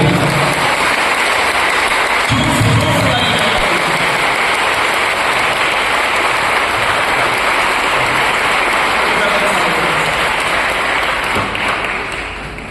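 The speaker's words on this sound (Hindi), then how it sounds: "आइए मेरे जोर से ताली।" A church congregation at a gathering in Delhi claps loudly, a dense, steady wash of applause that carries on for the whole stretch and tapers off only slightly at the very end.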